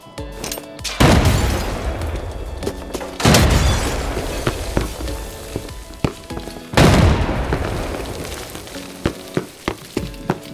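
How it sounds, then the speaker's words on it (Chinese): Grenade blasts in the shooter game Arena Breakout Infinite: three loud, booming explosions with long rumbling decays, spaced a few seconds apart, with sharp gunshot cracks scattered between them. "有人撇雷"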